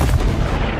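Artillery shelling in a science fiction battle, a dense, loud, booming burst of gunfire that fills the whole brief moment with no voices present.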